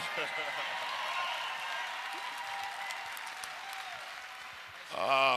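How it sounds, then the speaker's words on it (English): Audience applause fills a hall at a chamber of commerce annual meeting, a steady wash of clapping that holds for about five seconds before a voice cuts in at the end. "Got a few more claps up there from y'all up top."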